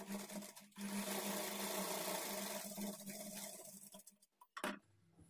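A sewing machine runs steadily as it stitches a folded quarter-inch margin on a blouse lining, a fast even whir that slows and breaks into a few short bursts before stopping.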